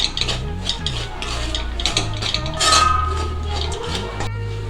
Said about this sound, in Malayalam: ശേഷം ഈ പൊടികളുടെ പച്ചമണം മാറുന്ന വരെ ഒന്ന് വഴറ്റി കൊടുക്കാം.